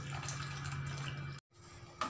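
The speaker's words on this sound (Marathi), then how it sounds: "आता पाणी टाकते मी" Water poured into a bowl of besan batter for crunchy chilla, a steady close liquid splashing and trickling that cuts off briefly near the end before resuming faintly.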